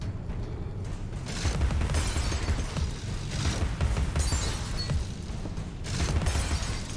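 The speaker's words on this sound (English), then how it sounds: "Satisfying, like, glass breaking sound when you kill those enemies." Enemies break apart with shattering glass sounds in the video game Alice: Madness Returns. The bursts come in rapid succession over a loud, dense game mix with steady rumble and clatter, and no speech.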